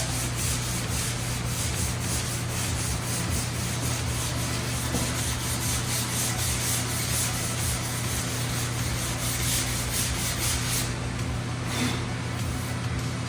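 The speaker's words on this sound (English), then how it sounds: "if we can sand off all of that black guide coat, we know this is going to be perfect and flat" Sanding by hand with a block to remove black guide coat from a prepped car body panel on a 180SX, a continuous close rasping rub with steady strokes and no talk throughout.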